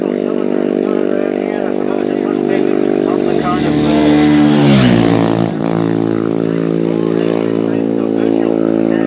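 Honda four-cylinder racing motorcycles pass during a race, their engine note swelling to a loud close peak with a falling pitch as they go by, under a commentator's voice.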